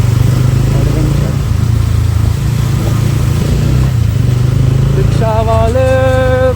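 An adventure motorcycle rumbles at low pitch during a ride through traffic, steady and loud, with a horn-like tonal blare rising near the end over continuous road noise.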